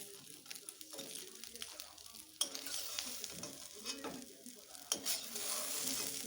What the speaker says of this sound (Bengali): এই দেখো বড়াগুলো আমার ভাজা হয়ে গেছে